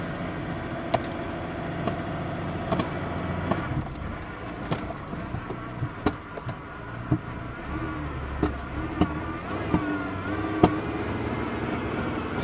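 A Buick LeSabre engine idles roughly and unevenly in a steady low drone, with irregular clicks and knocks scattered throughout, no talking.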